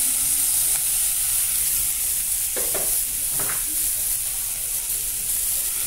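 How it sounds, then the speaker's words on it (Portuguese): Zucchini fries in a pan with a steady close sizzle, broken by a few short scraping strokes as it is stirred. "A minha abobrinha. Vou mexer ela aqui."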